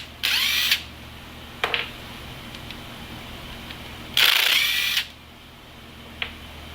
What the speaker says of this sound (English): I'm gonna pull this end off. Got my old DeWalt impactor.